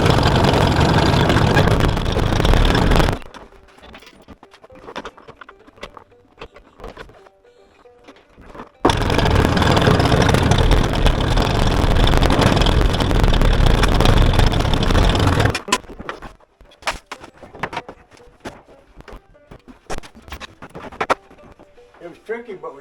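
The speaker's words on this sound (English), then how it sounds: "So let me go get the tractor and I'll move this thing too." A tractor engine runs loud and close in two long stretches, with quieter gaps between them filled with scattered knocks and movement.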